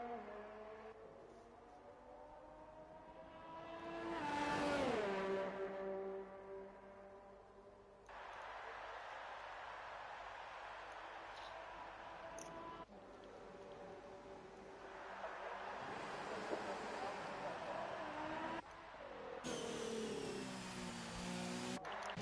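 F1 race cars in a racing game scream past on track, one swelling then dropping in pitch as it passes near, followed by steady high engine drones and gear changes under a commentator's voice.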